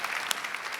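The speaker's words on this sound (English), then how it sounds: "I'd like everyone to give a round of applause for our panel, please." A panel at a keto fitness conference gets a burst of audience applause: dense, steady clapping with a brief louder spike, heard on its own without speech.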